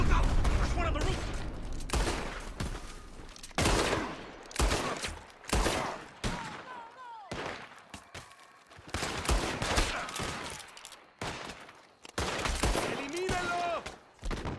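Bursts of gunfire from a Red Dead Redemption 2 shootout, with repeated sharp volleys of varied loudness spread across the clip, mixed with game voices shouting over the shots.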